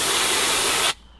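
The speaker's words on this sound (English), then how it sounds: "have a public service and air hose to clean yourself" A public compressed-air hose used to blow dust off a person sprays a loud, steady hiss for about a second, then shuts off abruptly into quiet.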